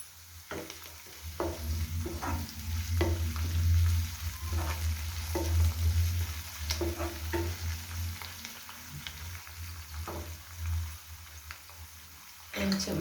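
Onions, ginger-garlic paste, green chilies and coriander fry in a pan for a prawn gongura curry, with a steady close sizzle and repeated scraping stirs of a spoon throughout.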